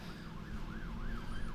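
A wailing siren rises and falls in a steady repeating cycle, somewhat distant, over a low rumble of engine or road noise.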